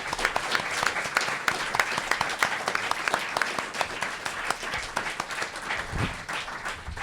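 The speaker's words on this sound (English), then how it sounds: "Can we get a round of applause for everyone who helped with this?" An audience claps for the helpers at a 2018 Warwick school committee forum, a dense, sustained round of applause from many hands that holds steady at moderate loudness for several seconds.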